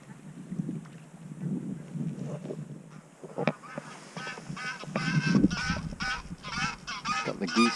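Geese honking near a beach at Peanmeanach Bothy, with wind buffeting the microphone; after a quieter windy start, a flurry of repeated honks builds and carries on, moderately close.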